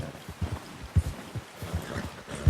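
A horse galloping in Red Dead Redemption 2, steady rhythmic hoofbeats thudding close by at a quick pace with no talk.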